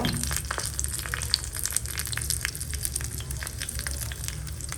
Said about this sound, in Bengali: এবার আমি ছড়িয়ে মিক্স করে নেব, ঘিটা দিয়ে দেব।